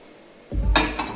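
A heavy new tava griddle is handled in a home kitchen. After a quiet moment comes one loud, close metallic clunk followed by a short ringing scrape.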